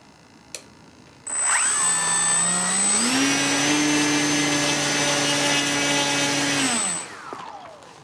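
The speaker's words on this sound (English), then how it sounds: "That's pulling 20 amps at maximum throttle, so my ESC is fine and the prop is fine." An electric RC high-wing EPP trainer plane's motor and propeller spin up from a whine to a loud, steady high-pitched buzz at maximum throttle, hold for several seconds, then wind down.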